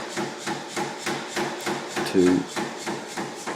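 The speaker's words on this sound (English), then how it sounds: "Now I'm going to put it back through the power hammer" A power hammer pounds a steel bar flat in a blacksmith's forge, delivering a fast, steady run of loud, evenly spaced blows with a brief word spoken partway through.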